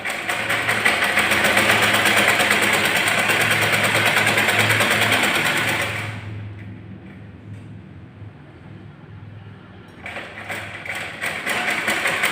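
Sewing machine stitching a simple 30-inch blouse, a fast even mechanical whir for about six seconds that stops, leaves a quiet gap, and then starts running again, with no talking.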